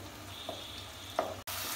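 Tomato and cashew paste frying in a pan over a medium flame, a steady soft sizzle with a couple of faint stirring clicks, close by, with no voices.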